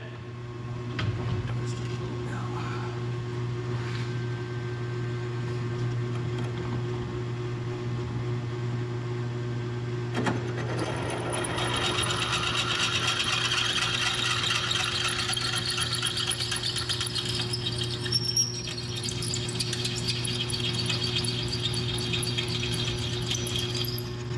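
A steady motor hum runs throughout, then a harsh, gritty grinding of a drill bit boring through leaf-spring steel rises and continues loudly to the end.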